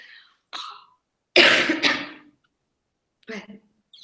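A few harsh coughs and throat-clearing bursts, close and loud, separated by short silences.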